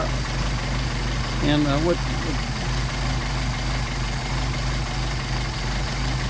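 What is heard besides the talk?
engine idling while tuning a Solex carburetor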